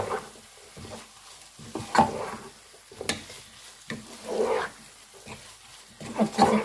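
Spices being mixed into aloo keema, minced meat cooking in a pan, with irregular scraping and stirring strokes over a low sizzle, loud and close, coming in uneven bursts.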